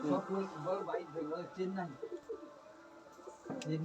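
A pair of Madrasi pigeons in a breeding loft give low, rolling coos in quick repeated phrases near at hand, with someone speaking over the calls.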